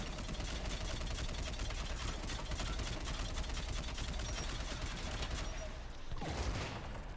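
Assault rifle gunfire in a Mass Effect 3 multiplayer match: a dense, unbroken stream of rapid shots that masks everything else, with a brief dip near the end.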